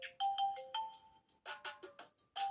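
Bright electronic ringtone from a Huawei P8 or P20 lite phone, a string of short chiming melodic notes in a clean repeating pattern, played alone in a quiet room.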